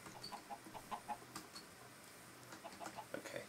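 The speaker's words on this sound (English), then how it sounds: "Okay, there's a lot of freaking chickens," Chickens clucking in the video game Minecraft, a flock producing soft, short, repeated clucks scattered through a quiet stretch with faint background ticking.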